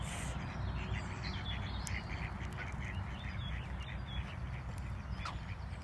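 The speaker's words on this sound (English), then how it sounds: "But all the ducks are out, look." Several ducks quacking repeatedly outdoors, near and far, over a constant background rumble of wind or water.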